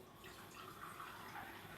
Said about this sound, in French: nous allons prendre l'eau du robinet